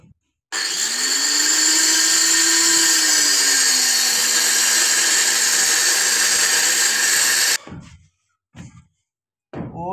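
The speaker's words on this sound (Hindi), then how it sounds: "बिल्कुल आराम से एहतियात से चलाना है ग्राइंडर, क्योंकि बहुत ही खतरनाक चीज़ है।" An angle grinder cutting a groove in a wall for pipe fitting screams with a loud, steady high-pitched whine for about seven seconds, its pitch rising briefly, then stops abruptly, leaving a few faint scraping knocks.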